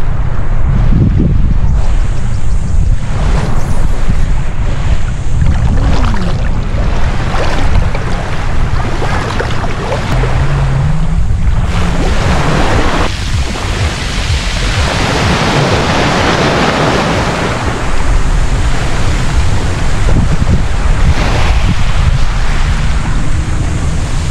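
Surf rolls onto a clean, uncrowded beach at Puerto Galera, Oriental Mindoro, a steady broadband wash of breaking waves heard close, with heavy wind buffeting the microphone throughout and no voices.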